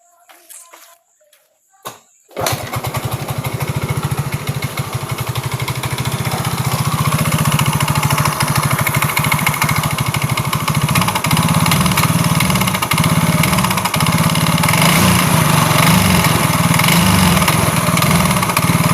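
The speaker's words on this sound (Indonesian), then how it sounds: "Kita coba hidupkan motornya." A motorcycle with a sputtering fault and ECU signal trouble cranks and starts after a few quiet clicks, then runs loud and close at a steady, slightly uneven idle.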